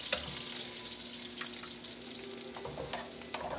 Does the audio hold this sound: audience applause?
no